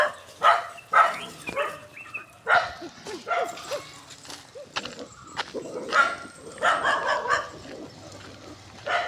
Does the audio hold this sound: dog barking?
yes